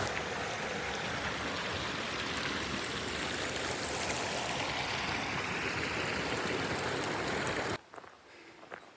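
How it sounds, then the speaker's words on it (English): A waterfall and stream pouring beside a swimming hole on a hike in southern Washington, a loud, dense, continuous rush of water that cuts off abruptly near the end, leaving faint quiet. "a more spectacular looking waterfall than the slide waterfall we just saw"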